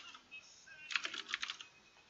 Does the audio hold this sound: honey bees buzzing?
no